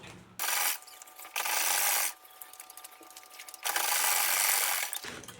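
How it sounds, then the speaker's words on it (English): Sewing a folded handle onto a jute tote bag, heard as three separate bursts of rapid mechanical whirring with quiet pauses between them, close and fairly loud. "I'm just going to fold this in and just sew."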